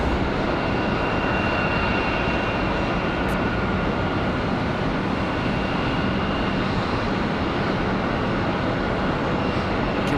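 An Airbus A350-1000 jet at Charlotte Douglas airport gives a continuous, loud, dense engine roar that stays steady and close for the whole stretch, with no voices over it.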